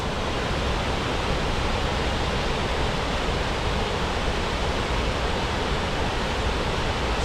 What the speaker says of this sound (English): Spectacular looking waterfall.